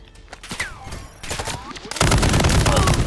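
Gunfire in the Call of Duty: Modern Warfare 3 campaign, a few scattered shots at first, then a loud, dense burst of rapid automatic fire in the last second, close and heavy.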